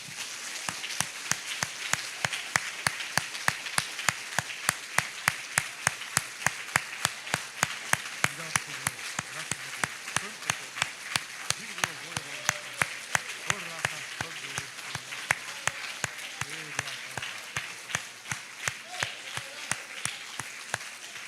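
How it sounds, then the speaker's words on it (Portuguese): A church congregation applauding, clapping in a steady rhythmic beat for about twenty seconds, with faint voices underneath. "Vamos aplaudir o Senhor Jesus?"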